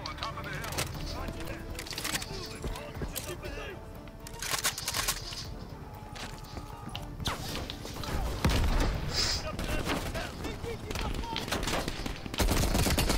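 M60 machine gun fire in Call of Duty Black Ops Cold War comes in rapid bursts and scattered shots over busy game ambience, with someone talking throughout.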